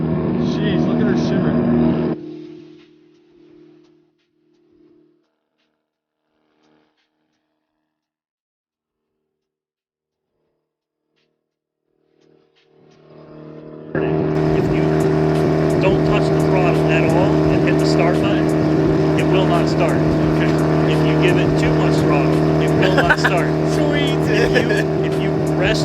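A Mazda RX-7 rotary engine runs loudly close by, cutting off into near silence and then roaring back into a steady, strong idle that holds to the end.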